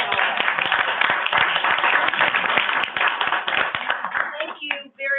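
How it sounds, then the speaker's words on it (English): Applause from a workgroup meeting on ending hunger, a room of people clapping steadily together with sharp individual claps standing out, heard somewhat thin and slightly distant, tapering off as the meeting resumes. "acclamation would be signified by applause at this point"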